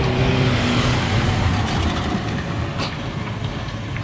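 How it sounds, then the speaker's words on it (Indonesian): A car drives up the steep road toward Jabal Nur mountain near Mecca, its engine a loud broadband roar close by that slowly eases as it passes. "Itu adalah salah satu mobil yang naik."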